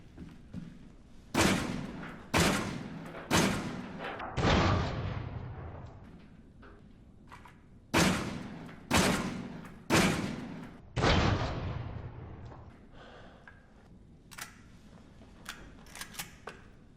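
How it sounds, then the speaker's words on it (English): Semi-automatic shotgun blasts in Resident Evil 7, seven loud booming shots in two quick groups of three and four, each with a short decaying tail, followed by faint scattered thuds and clicks. "Alright, so yeah, it is a semi-automatic shotgun."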